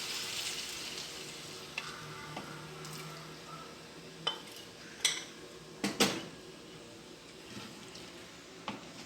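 A spoon stirs chicken risotto in a pot while broth is added bit by bit, giving soft scraping and a low simmering hiss broken by several sharp metallic clinks against the pot.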